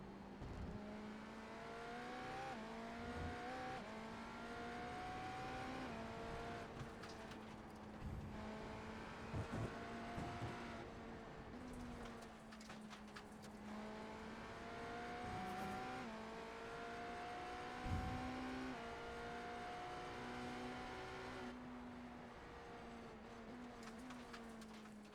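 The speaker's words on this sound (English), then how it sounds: "Sounds like Edo is fuel saving" Race car engine lapping a track, a high sustained whine that rises and falls through gear changes and braking, with brief dips and surges over about 25 seconds, heard faintly through a stream mix.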